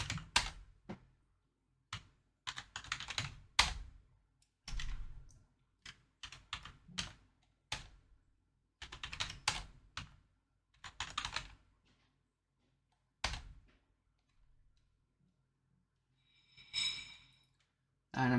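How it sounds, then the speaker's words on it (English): Computer keyboard typing in irregular clusters of quick keystrokes separated by silent gaps, close and fairly quiet, with occasional sighs and breaths. "I'm just being really bad at typing today."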